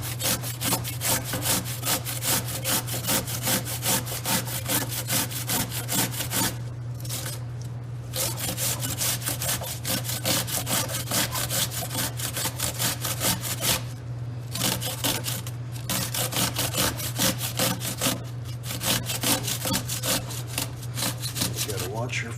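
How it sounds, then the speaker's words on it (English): Cucumbers being grated on a hand grater over a lined sink, a rapid, steady rasping scrape with a few short pauses between runs, close and fairly loud over a constant low hum. "So we're going to grate our cucumbers"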